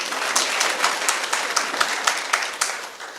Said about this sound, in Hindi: सर के लिए तालियां बजा दो यार